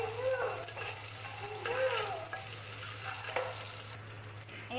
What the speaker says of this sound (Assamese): এয়া এনেকৈ পিঁয়াজখিনি অকণমান ফ্ৰাই কৰি ল'ব।